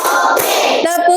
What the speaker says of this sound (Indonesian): Tepuk satu, tepuk dua,